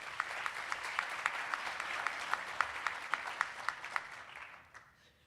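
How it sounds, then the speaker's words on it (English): An audience at a faculty and staff awards ceremony gives a warm round of applause for an award recipient, steady clapping with a few louder single claps standing out, fading away near the end. "So let's give a nice round of applause for Uchenna."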